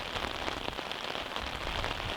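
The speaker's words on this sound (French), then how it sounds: "on voit vraiment la pluie qui est infernale" Heavy rain pours down steadily at a disc golf course during a French championship round, a dense, continuous hiss and patter of drops on the ground and surfaces nearby, with no voices over it.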